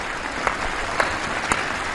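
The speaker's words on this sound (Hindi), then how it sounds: "हमारे खिलाड़ियों के सम्मान में आइए कुछ पल तालियां बजा करके" A crowd at India's Independence Day address applauds in honour of the nation's athletes, steady clapping heard from a distance with a few sharper claps standing out.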